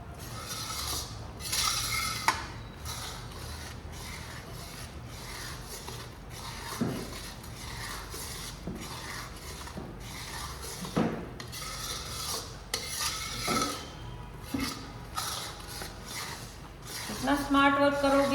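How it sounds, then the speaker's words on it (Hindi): A spoon slowly works through a thick mohanthal mixture for a Gujarati sweet, making soft scraping and rubbing strokes in an unhurried, uneven rhythm, with a person talking over parts of it. "तो ऐसे ही धीरे धीरे करके हमें इसको मिक्स करना है"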